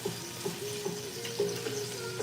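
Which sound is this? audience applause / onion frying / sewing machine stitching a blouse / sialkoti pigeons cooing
onion frying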